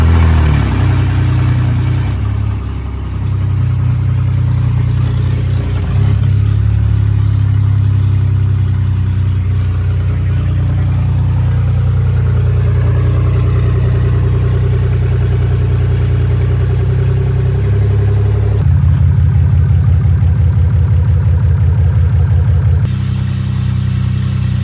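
BMW E93 with a swapped N52 engine running on open headers with no coolant, a loud deep idle rumble with a pulsing exhaust note and occasional light revs, held steady throughout.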